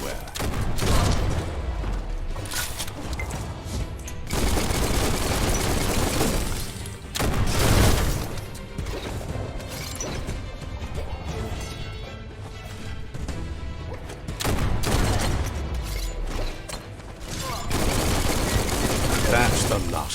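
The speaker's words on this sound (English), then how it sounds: "Bullets everywhere." Gunfire and bullet impacts in the video game Biomutant, with dense bursts of shots and crashing, shattering hits coming in loud waves with brief lulls between them, and a voice talking over the action.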